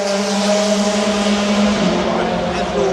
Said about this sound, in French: il y a une voiture qui monte tous les 30 secondes, quelque chose comme ça